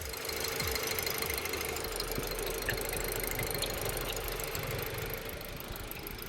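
Steady low hum of a Mercedes-Benz GLA 200's 1.3-liter turbo four-cylinder petrol engine idling, even and continuous, with a faint whine on top and no voices.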